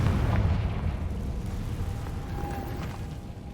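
A Confringo fire spell blasts in the video game Hogwarts Legacy, giving a loud, rumbling explosion with a heavy low-end boom that lingers steadily for several seconds.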